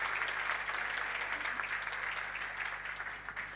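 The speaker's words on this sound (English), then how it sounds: "Round of applause." Steady round of applause from a conference audience, a dense even patter of many hands filling the room at moderate level, continuing without pause.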